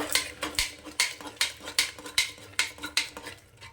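A spoon stirs bottle gourd curry with spices and chopped coriander in a pan, striking the metal in about a dozen regular, sharp scrapes and clinks, close and clear with no talking.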